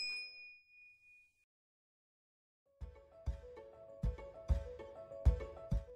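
A bright bell-like ding rings out and fades, followed by silence, then a run of rhythmic clanging hits and tones.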